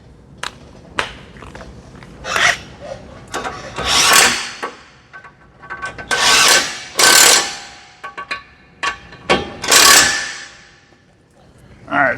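Brake caliper bracket bolts on a 2017 Ford Transit 350 being run tight with a power tool, several short broadband bursts of a few seconds each separated by handling clatter and faint background noise.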